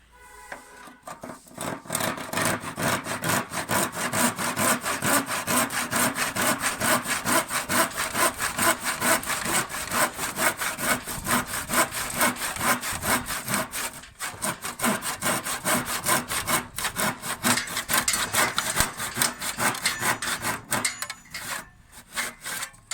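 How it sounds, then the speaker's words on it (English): A hand saw cuts steadily through a wooden kitchen worktop, with close, continuous back-and-forth rasping strokes lasting about twenty seconds, a brief pause midway, then trailing off at the end. "So I'm going to cut down to there with the saw, hand saw"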